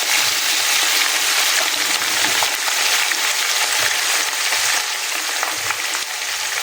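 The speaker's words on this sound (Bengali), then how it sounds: "আপনি দারচিনি এলাচ এখন পেঁয়াজ দিয়ে দিব" Onions fry with cinnamon and cardamom in hot oil, a loud, dense, continuous sizzle with scattered pops and stirring scrapes, close up and without speech.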